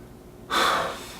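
A single steady breath drawn through the nose by a person meditating cross-legged, beginning abruptly after a quiet pause and sustained close and clear for under a second, with no talking.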